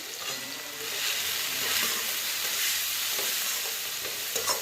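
Potatoes with salt and turmeric are stirred in a frying pan over medium flame, a continuous close sizzle with soft scraping strokes.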